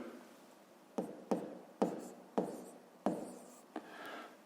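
Pen writing numbers on paper during a fifth-grade math exercise, a close, quiet series of about six short scratchy strokes at irregular intervals, with no talking.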